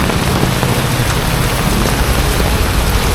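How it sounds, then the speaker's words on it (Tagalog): A downpour of heavy rain drums steadily and loudly, a thick wash of impacts with no pauses or other sounds. "Sobrang lakas ng ulan."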